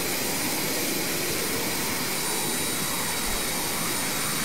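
An Airbus jet engine in Flight Simulator 2020 gives a steady, broad hissing roar with a high whine, constant and moderately loud with no talk over it.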